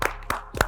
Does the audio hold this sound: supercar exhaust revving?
no